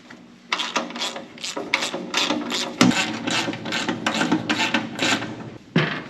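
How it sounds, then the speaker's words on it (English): A wrench working bolts loose on a plate of a John Deere machine, with rapid ratcheting clicks in bursts, one sharp metallic knock partway through, close up, with no talking. "after these 2 bolts come off, I'm pretty sure this plate just lifts off"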